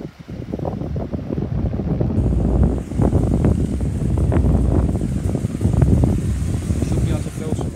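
A 12-inch Dyson desk fan runs at medium speed, giving a steady, close airy whoosh. Speech can be heard over the fan noise.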